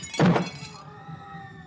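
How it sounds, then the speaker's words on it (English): A weapon dropped in a horror film scene lands with a single sharp, loud thunk, followed by a fading ringing tail and quiet room tone, with no talk. "you dropped your only weapon."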